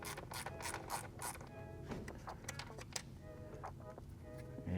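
A T20 Torx driver backs bolts out of a BMW B58 engine, giving quiet, close mechanical clicking in quick irregular runs, like a ratchet working, with no talk over it.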